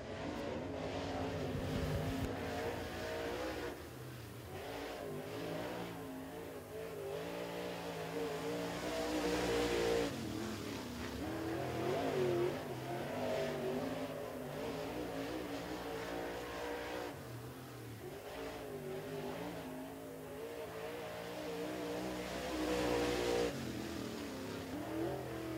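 Race cars lapping a dirt raceway during weekly division racing, their engines roaring and revving steadily throughout, loud and continuous with rising and falling passes.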